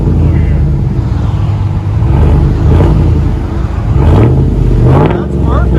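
A Chevy Silverado 2500 HD with a 6.0L V8 and Dynomax Race Bullets exhaust revving, a loud, deep rumbling roar that rises and falls in several throttle blips, heard up close with voices mixed in.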